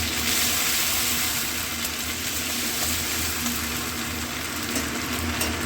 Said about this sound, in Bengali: এটা একটু ভাজা ভাজা হবে, মানে একটু কাঁচা গন্ধটা যাবে।